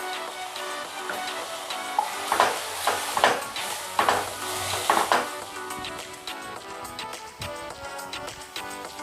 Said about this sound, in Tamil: காய் நல்லா வதங்கிடுச்சு.